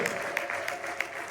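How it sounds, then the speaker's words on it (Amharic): Church congregation at a Sunday service clapping steadily in a dense, continuous wash, with faint high ululation cries rising intermittently through the applause. "እስኪ በእልልታ ጭብጨባ ክብር እንስጠው።"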